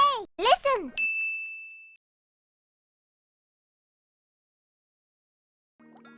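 A single bright notification bell ding rings out and decays quickly, following a short burst of chirpy, cartoonish voice sounds and leading into silence.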